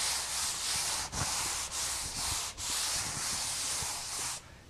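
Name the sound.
Wooster AeroSander sanding a wall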